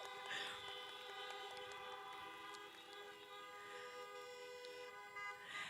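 Car horns honk at a drive-in campaign rally: several horns blare together at once in a steady, sustained chorus from parked cars, with a few sharper toots rising over the blended tones.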